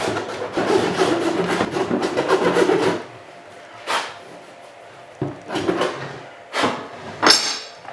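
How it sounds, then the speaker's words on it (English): A knife whittles away material while shaping a part for a homemade camera trap, giving a quick run of close scraping strokes followed by a few separate, louder scrapes. "keep whittling away with the knife"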